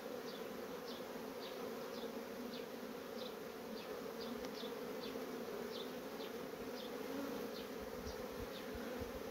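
Honey bees buzzing steadily at the entrance of a strong hive while returning with pollen, a continuous faint outdoor hum with individual bees passing close by.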